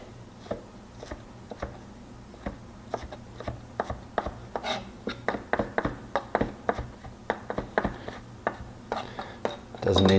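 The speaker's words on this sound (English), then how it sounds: "We give the Serranos a nice chop." Knife chopping serrano peppers on a cutting board for game day nachos, a steady run of sharp close taps that quickens toward the end.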